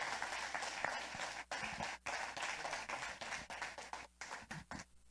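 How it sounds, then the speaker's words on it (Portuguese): A church congregation applauds during a Sunday Bible school service, a dense wash of hand clapping that stays fairly quiet and distant, with scattered brief pauses and louder individual claps near the end. "aplauda ao Senhor bem forte"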